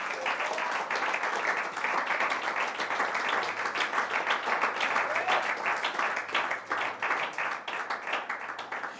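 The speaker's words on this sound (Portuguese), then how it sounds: "Vamos aplaudir o nosso Deus por isso." A church audience claps together in praise during a sermon, sustained loud applause lasting about nine seconds, dense and rhythmic with a slight fade near the end.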